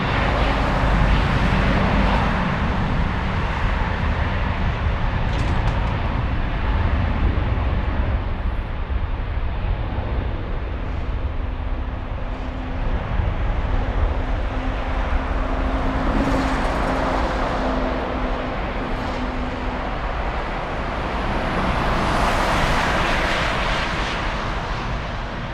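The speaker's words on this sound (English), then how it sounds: "The 600th Airbus A321 on the move" A Lufthansa Airbus A321 moving at Frankfurt airport, its steady jet-engine roar holding throughout alongside a faint droning tone, with broadband rumble and no voices.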